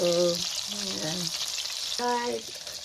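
Meatballs sauté in a pan with a steady close frying hiss while a spoon turns them, and a voice hums briefly in the foreground.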